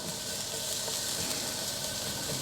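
Four garlic cloves sizzling in hot oil in a pan: a steady, bright, hissing fry that stays even and fairly close for the whole moment.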